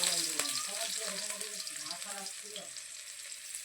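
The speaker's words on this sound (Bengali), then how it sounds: "পাঁচ ফোড়ন দিয়ে পেঁয়াজ দিয়ে দিয়েছি।" Onion frying in oil with panch phoron spices for a Bengali chorchori, a soft continuous sizzle and crackle with light stirring throughout, a faint voice murmuring underneath.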